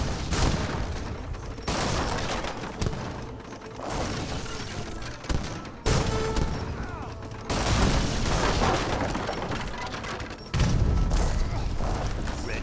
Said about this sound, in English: Culverins do find a good volley there.